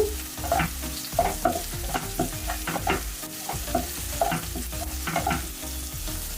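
Capsicum being lightly fried for veg manchurian sizzles steadily in the pan while a spatula stirs in a regular rhythm of scraping knocks, close and without speech.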